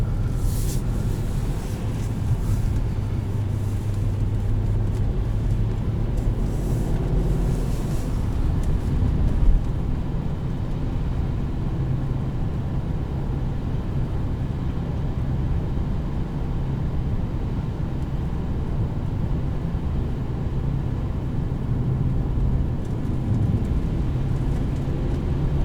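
A 2011 BMW 550xi rolls over an icy road, its steady low engine and tire rumble filling the cabin at a constant level throughout, with broadband road hiss above and no talking.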